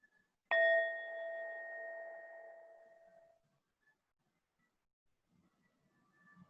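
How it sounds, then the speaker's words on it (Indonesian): A meditation bell struck once, ringing out clear and close with a long, smooth decay that fades over roughly three seconds into near silence. "Jadi kita mulai dengan mendengarkan bunyi bel"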